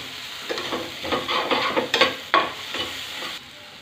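Red chilli powder, hot chilli powder, coriander, cumin and Kashmiri chilli powder are stirred and fried in a pan with quick scraping strokes over a soft sizzle. The stirring is close and lively, then drops away at the end.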